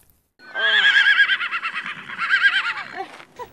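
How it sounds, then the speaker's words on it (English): A horse at a horse rescue ranch gives one loud, close whinny lasting about three seconds, a high wavering neigh that trembles and falls away, heard alone without talk. "Gina Caglia and her husband Tony have nursed many sick horses back to good health."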